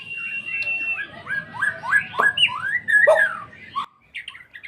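A white-rumped shama delivers a varied run of loud whistles, chirps and rising notes, close and clear, with brief pauses.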